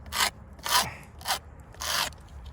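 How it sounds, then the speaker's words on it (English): Hand scraping on an old cemetery gravestone: four distinct, close, harsh rasping strokes with brief pauses between them, no voices. "See where I can do some scraping here."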